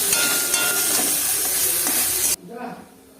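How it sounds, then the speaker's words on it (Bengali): Potatoes fry in a pan with a loud, dense, continuous sizzle that cuts off abruptly, followed by a faint voice in a quieter room. "এই দিকটাই হচ্ছে আলু ভাজা।"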